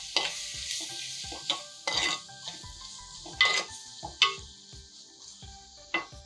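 Tomatoes fry in a pan with a soft sizzle under repeated close scraping and stirring strokes, irregular utensil knocks rising over the hiss now and then, no voices.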